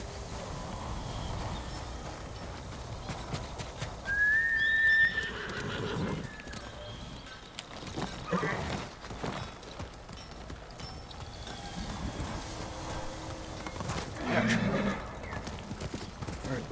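A horse in the video game Ghost of Tsushima gives a clear whinny amid steady hoofbeats and ambient game sounds, while someone talks over it.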